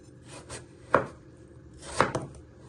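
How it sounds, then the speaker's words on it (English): A knife chops through peeled potatoes on a board, two distinct firm thuds about a second apart with faint rubbing between them, close and clear with no talking. "you're going to chop them down the middle. And then you're going to chop them into 3."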